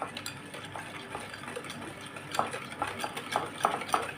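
A spoon stirs sugar into ghee, egg and vanilla in a bowl for sugar cookie dough, giving a steady run of soft scraping strokes with sharper clinks toward the end, close by with no talk.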